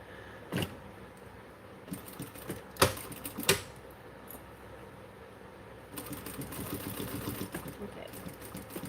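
A sewing machine stitches a joining stitch on webbing, with sharp clicks and clacks early on, then a steadier mechanical chatter building toward the end, all close and fairly quiet.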